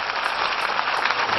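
A church congregation claps together during a worship service, a dense, steady patter of applause that holds evenly throughout.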